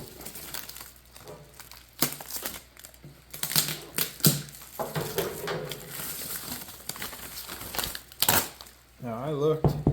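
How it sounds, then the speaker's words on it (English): Packaging comes off an eBay seat for a Honda ATC250R, with loud crinkling, tearing and rustling bursts coming close and in irregular clusters, plus a voice in the background. "Well, get this packaging off."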